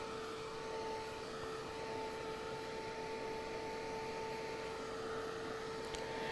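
A small electric dryer blowing on a craft piece, a steady, even whirring hum with a faint tonal whine that stays constant throughout, with no talking.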